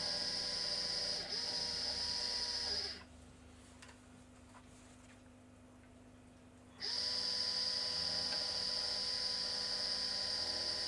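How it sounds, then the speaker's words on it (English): A vaping coil's core wobble produces a steady electrical hum with high whining overtones that drops away for several seconds, then returns, with a faint wavering ripple in the tone. "You can hear the core wobble starting to come in."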